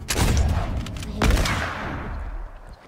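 Gunshots from a video game trick shot map: a heavy volley of loud shots, a second sharp blast about a second later, then a rumbling tail that trails away.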